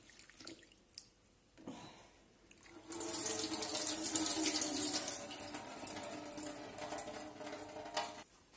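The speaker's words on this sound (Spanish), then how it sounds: "Lavamos la cebollita muy bien para que no sea muy fuerte cuando lo comamos." Running tap water splashes as an onion is rinsed under it, first with quiet trickles and drips, then a louder, steady stream for several seconds before it tapers off.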